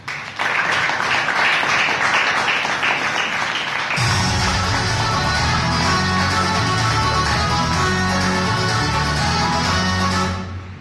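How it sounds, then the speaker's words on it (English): Audience at a Toastmasters club meeting applauds the committees, a steady, dense round of clapping that sustains for about ten seconds before fading out at the end. "Let's give a huge round of applause to both the committees."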